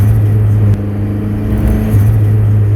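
Steady low engine drone from a turbocharged Mazda Miata cruising around town with a new clutch being broken in, a constant rumble with a brief shift in pitch partway through, heard from inside the car.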